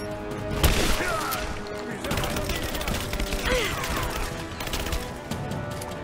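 Gunfire in the video game Rise of the Tomb Raider, a busy, continuous battle mix of shots and impacts with a sharp burst near the start, layered game noise and a voice talking over it.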